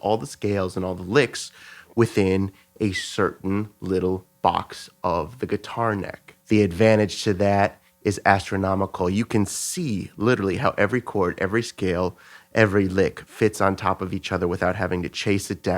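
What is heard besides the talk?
No everyday noises stand out.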